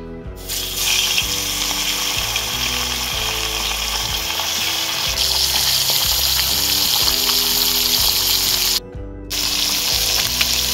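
Fish pieces dropped one at a time into smoking-hot oil in a wok, sizzling and spattering loudly and continuously with steady bubbling close up.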